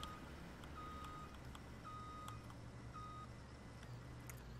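A tow truck backing up on a highway in Farming Simulator 17, its reversing alarm beeping in slow regular pulses over a steady low engine hum, fairly faint and with no voices.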